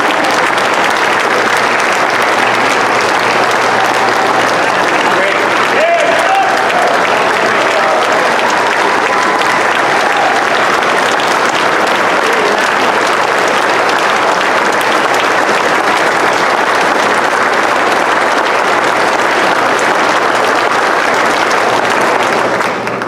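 A large audience applauds and rises for a standing ovation at a public meeting, sustained dense clapping that stays steady and loud for the whole stretch with a faint murmur of crowd voices beneath.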